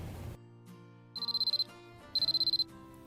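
A telephone rings while calling a priest: two bursts of rapid trilling ring tones, each about half a second long and separated by a pause, heard clearly over a quiet room after a brief low rumble at the start.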